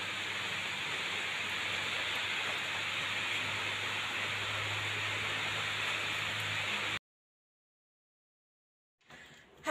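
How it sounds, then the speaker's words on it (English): Rain falls outside as a steady, even hiss for several seconds, then cuts to silence, with a faint rustle at the very end. "it's raining over here"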